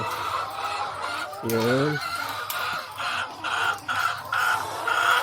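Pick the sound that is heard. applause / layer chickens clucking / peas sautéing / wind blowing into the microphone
layer chickens clucking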